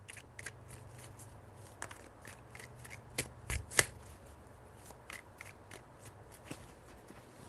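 A tarot deck shuffled up close, a steady series of light papery snaps and riffles over a quiet low hum, with no talking.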